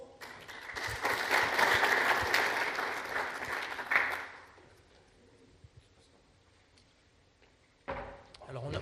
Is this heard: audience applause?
yes